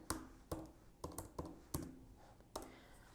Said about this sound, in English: I'm typing in my phone number.